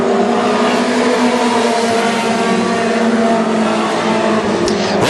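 WISSOTA Mod Four race cars roar around the Ogilvie Raceway oval during a 15-lap night feature, a loud, steady blend of engines droning close by without pause.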